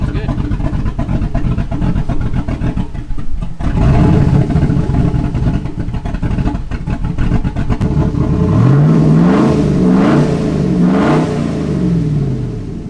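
A car engine with a swapped camshaft, likely an SS clone, idles loudly with a choppy, lumpy rhythm, briefly revving, while people talk close by.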